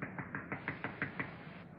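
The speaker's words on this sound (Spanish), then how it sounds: "Están llamando a la puerta." Someone knocks on a door, a quick run of about eight even raps, slightly muffled, in a quiet room with no talking.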